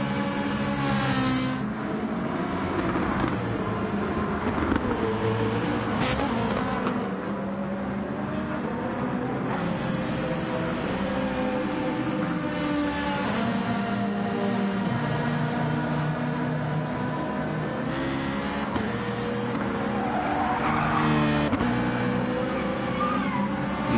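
Gran Turismo 7 race cars howl around the Red Bull Ring in a continuous layered engine drone. Pitch sweeps rise and fall through gear changes and corners.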